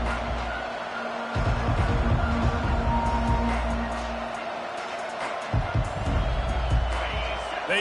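Football stadium crowd at Alabama versus Georgia roars and cheers steadily through a kickoff, a dense wall of noise that swells after the first second and surges again near the end, with an announcer talking over it.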